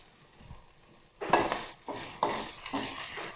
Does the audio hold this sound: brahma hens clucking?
no